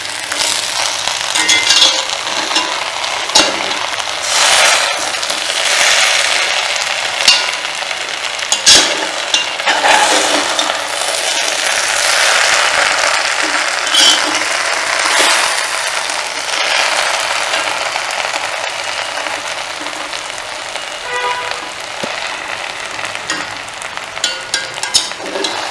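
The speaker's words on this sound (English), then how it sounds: "Let's give it a stir to mix it up." Undhiyu vegetables sizzling and frying in a pan while being stirred, a steady close crackle broken by scraping and clinking of the spoon, with no talk.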